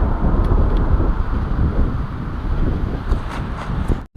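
Strong gusty wind during a wind advisory roars loud and continuous across the microphone outdoors, a dense rumbling blast that cuts off abruptly at the end.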